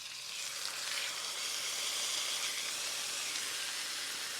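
Beef searing in ripping-hot avocado oil in a pan over medium-high heat: a steady, dense sizzle and hiss that runs unbroken and fairly loud from start to finish.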